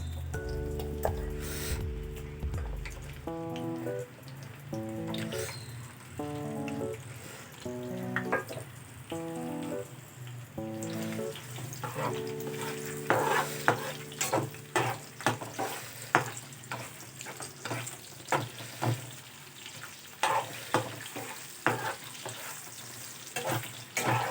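Onions sizzle and hiss in hot oil for chicken 65 curry, with repeated scraping stirs of a spatula through the pan, steady and close throughout with no talking.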